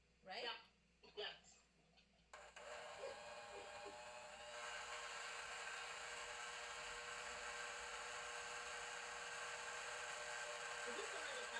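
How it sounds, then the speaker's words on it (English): An electric hand mixer whirs steadily through butter while baking, starting after a couple of short exchanges of talk and then holding a constant buzzing drone at close range. "you did say mix the butter with the mixer, right?"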